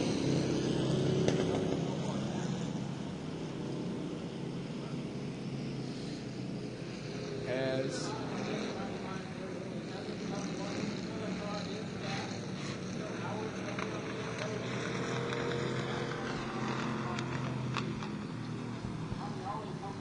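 Super Stock race cars run on a speedway track, with a steady roar of engines drifting from a distance under ongoing commentary.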